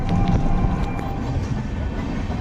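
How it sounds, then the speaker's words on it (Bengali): A heavy, continuous low rumble of a train passing close by, steady and loud throughout with faint rattling on top. "ট্রেন ট্রেন যাচ্ছে সেই জন্য আমরা এখানে দাঁড়িয়ে আছি"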